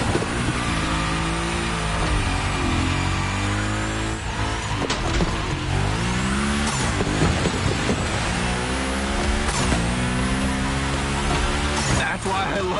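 Car sliding through a gymkhana course in the racing game The Crew Motorfest, with continuous engine roar and repeated tire squeals across the run, loud and close, while voices talk over it.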